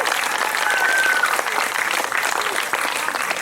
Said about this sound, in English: let's give a round of applause for Travis.